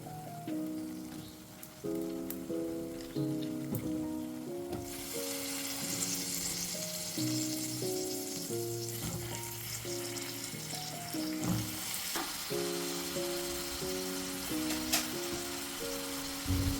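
Green beans in green masala curry sizzle softly in a pan over a low flame, a faint crackling hiss running steadily beneath a background melody.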